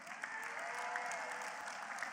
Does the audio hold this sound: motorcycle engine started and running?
no